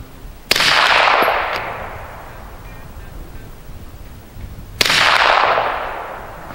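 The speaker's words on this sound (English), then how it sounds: "let's shoot a few supersonic rounds down there instead. Frick, that is louder." Two loud supersonic rounds fired from a Glock pistol at an outdoor range, each a sharp crack followed by a long rolling echo, spaced about four seconds apart.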